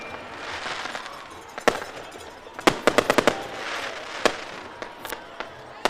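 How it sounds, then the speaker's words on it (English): Fireworks at a high school football game between Vilonia and Greenbrier crackle and boom in irregular bursts, including a rapid cluster of sharp bangs, over a steady outdoor crowd murmur. "Got a full-blown fireworks show going on."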